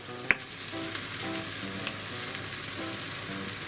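Soy sauce added to chopped scallions in a frying pan, a steady close sizzle and crackle with one sharp clink near the start and faint tonal beeps underneath.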